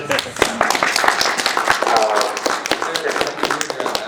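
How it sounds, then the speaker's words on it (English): Convention audience applauding and clapping in a panel room, dense sharp claps over crowd murmur with voices mixed in throughout. "They're specifically applauding that one"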